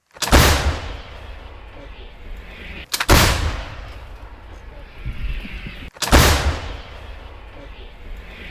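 An artillery gun fires three sharp, loud shots, each followed by a rumbling decay, spaced about three seconds apart in the open.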